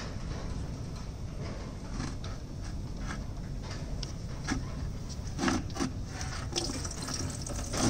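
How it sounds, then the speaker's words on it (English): Water draining from the bottom plug of a Meritor rear differential on a Volvo truck, a steady close pouring splash running continuously with occasional small clanks. "Here is no oil, just water."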